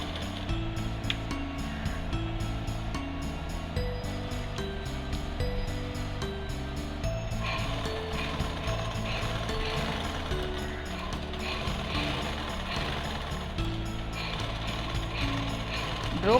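A sewing machine runs straight stitches through quilted cloth for a bag, giving a steady, close mechanical whirring and clatter that continues without a break.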